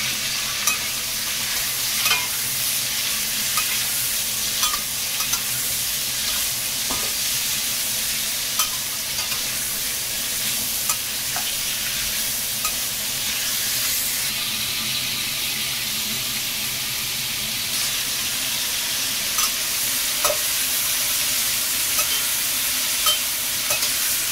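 Green chili peppers fry and get stirred in a pan, a steady loud sizzle with occasional scrapes and clicks of the utensil throughout.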